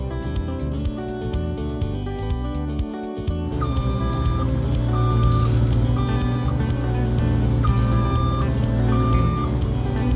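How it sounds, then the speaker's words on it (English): Small excavator driving onto a barge loaded with building materials and groceries: a steady loud engine drone with tonal whine and repeated beeps, continuous throughout, no speech. "now the excavator is coming on"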